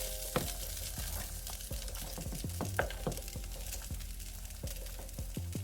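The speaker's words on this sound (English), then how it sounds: "go ahead and start crisping up this rice" Leftover rice crisps in a hot pan with sausage and vegetables, giving steady low sizzling with frequent sharp scraping clicks from a spatula stirring and tossing, close and fairly quiet.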